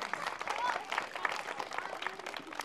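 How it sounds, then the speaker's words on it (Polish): An outdoor spring festival crowd for children in Tylicz claps in a dense patter, moderately faint, with voices audible amid the applause. "Wielkie brawa dla niej."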